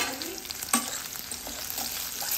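Onion and garlic fry in a pan with a close, soft, steady sizzle. A spoon scrapes and stirs through the pieces now and then.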